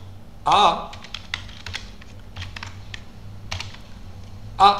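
Keys clatter on a computer keyboard while data is entered into R, light irregular taps spread across the clip with a couple of louder strokes near the start and end, under a faint background hum.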